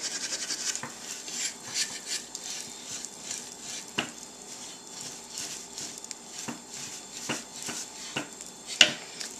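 Sandpaper rubbed over a deer antler during restaining, giving soft, repeated scratchy strokes with occasional sharper ticks, fairly faint and close with no talking.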